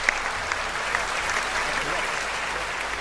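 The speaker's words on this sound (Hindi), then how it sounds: "तो एक बार जोरदार तालियां बजा।" A crowd at a poetry recital loudly applauds the poet Ajay Anjam, a thick, continuous roar of clapping that stays strong from start to finish, with voices faintly mixed into the noise.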